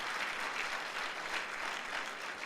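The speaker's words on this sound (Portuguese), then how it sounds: "Dê um aplauso a Jesus." Church congregation applauding at a pastors' gathering, a dense, steady wash of clapping that holds evenly throughout without pause, fairly loud and close.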